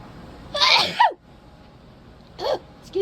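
A single sharp sneeze bursts out near the start, followed by a quieter sneeze-like catch of breath a moment later, close and alone against a quiet room.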